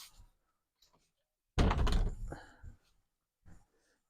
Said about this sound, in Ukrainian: я двері прикрию